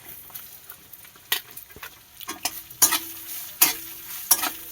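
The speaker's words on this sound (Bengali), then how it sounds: "এবার আমি দিয়ে দেবো নারকেল কুড়ানোটা" Grated coconut sizzles softly in a pan for a Kali Puja bhog khichuri, stirred with a utensil that gives a few sharp scraping clicks over a steady low fry.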